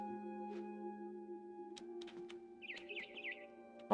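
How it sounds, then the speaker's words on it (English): A few soft bird chirps and a warbling trill from the video game What Remains of Edith Finch over a steady synthetic musical drone, quiet overall. "새 소리 난다."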